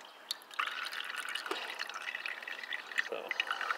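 Thick, gunky liquid from gold refining drips and trickles through a filter, a close, continuous wet patter with a few louder drops.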